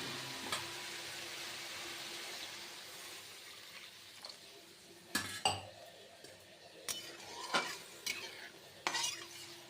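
Curry with lentil fritters is stirred and sautéed in a pan, a spoon scraping and clinking against the metal in scattered sharp taps over a faint continuous sizzle, close and quiet.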